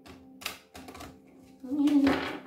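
Tarot cards are shuffled by hand in short papery bursts, with a louder stretch of riffling near the end, close and fairly quiet.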